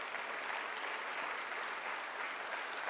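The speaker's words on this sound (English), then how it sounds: "let's give him a round of applause" Audience applause at the opening of a new airport terminal at LaGuardia, a dense, sustained roar of many hands clapping steadily for the whole stretch, with no talk on top.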